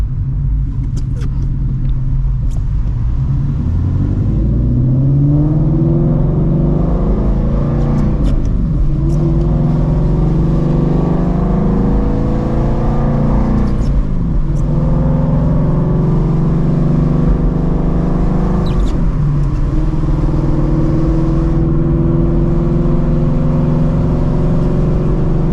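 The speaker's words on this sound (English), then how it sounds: "Obviously the valves are shut on this mode, but the car is still crazy loud." A Ford Shelby GT350 with its exhaust valves shut drives in rain, its engine rumbling loud and steady from inside the car, rising and falling through several gear changes with no talking over it.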